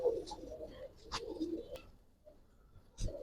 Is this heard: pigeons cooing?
yes